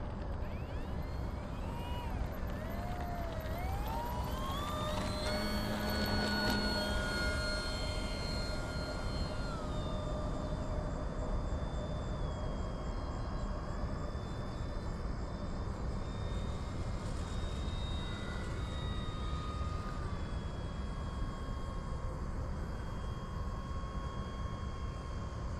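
An Arrows Bigfoot 1.3 m electric RC STOL plane takes off with a rising motor whine that climbs in pitch, then settles into a steady thin drone, fairly faint and heard against outdoor background.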